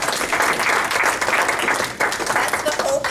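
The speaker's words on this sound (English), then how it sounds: "Round of applause for John." Audience applause following a speech, a dense, continuous round of clapping from a crowd, fairly loud and steady with a brief dip midway, and some voices mixed in.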